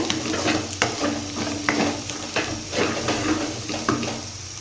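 Spice masala sizzles steadily in a pan for a spicy brinjal and egg fry, with close, repeated stirring scrapes and clinks over a constant frying hiss.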